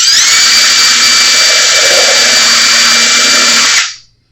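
A power drill bores into a ten-string charango body to fit a pickup, with one loud steady high whine that holds for nearly four seconds and then cuts off abruptly.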